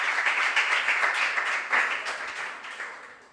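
A room full of people applauds contestants at a junior science and maths quiz regional qualifier, steady dense clapping that holds for a few seconds and then tapers off.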